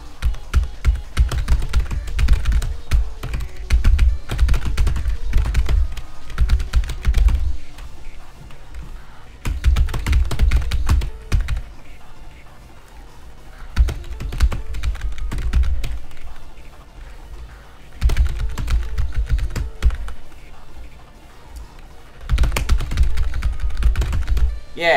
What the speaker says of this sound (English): I accidentally pressed that on my keyboard